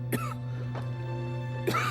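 A person coughs and clears their throat, with three short hacking bursts spread over a steady background hum.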